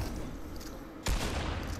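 Gunfire in the Fortnite video game: a short burst of shots ends in one sudden loud blast that carries on as a dense, noisy rumble, with no voices.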